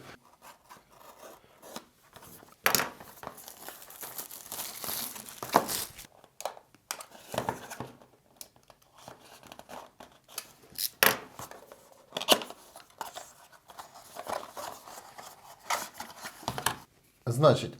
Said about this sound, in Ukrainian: розпакували ми тільки що пакування